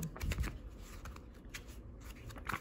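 Oracle cards are flipped through rapidly by hand in search of one particular card, producing close, soft papery riffles and flicks in a steady stream with no voices.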